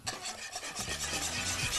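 Peach compote stirred in a pot, a steady close rasping scrape of the spoon against the pot repeating evenly throughout, with no voices.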